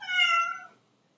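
A single domestic cat meows once, close and fairly loud, a clear rising-falling call lasting under a second before fading into quiet room tone.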